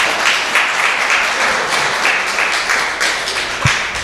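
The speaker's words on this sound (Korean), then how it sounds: "박수 한번 하겠습니다" A church congregation claps together during a sermon, a rhythmic, fairly even patter of many hands with a sharp low thump near the end.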